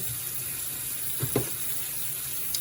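Beef chunks are rinsed under a running kitchen tap, a soft steady trickle of water with a couple of brief splashes partway through, fairly quiet and without talk.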